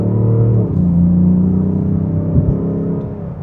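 A Lexus IS 350 F Sport's V6 engine revs and accelerates in traffic with a steady, smooth low hum that climbs in pitch, heard close from inside the car with no talking.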